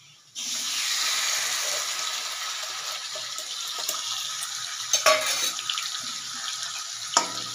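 Marinated chicken added to hot oil in a wok, a sudden loud hiss that settles into a continuous bright sizzle, with a few clacks of a utensil stirring near the end.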